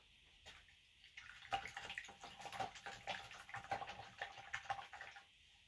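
A paintbrush carrying green paint is rinsed in water, making faint, quick sloshing and swishing splashes at close range that rise and fall for a few seconds.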